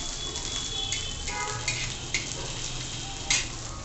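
Crushed garlic sautéing in a pan for Mumbai-style tawa pulao, a steady soft sizzle with a few sharp spatula scrapes and stirs against the pan.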